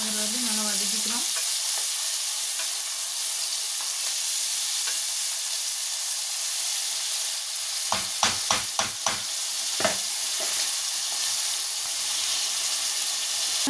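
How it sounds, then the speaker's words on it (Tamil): Onions and curry leaves fry in a pan until golden brown, a steady close hiss of sizzling oil with a quick burst of spoon scrapes and stirring knocks partway through. "வெங்காயம், கருவேப்பிலை, இதெல்லாம் போட்டு நல்லா பொன்னிறமாகிற வரைக்கும் நல்லா வதக்கிக்கிறோம்."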